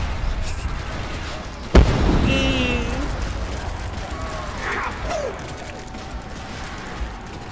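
A sharp grenade blast bursts suddenly and loudly, then fades into a rumbling tail amid game effects and chirps during Call of Duty: World at War custom zombies gameplay.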